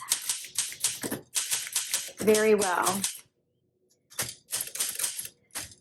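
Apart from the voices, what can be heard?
typing on a 1962 Blue Olympia SM7 typewriter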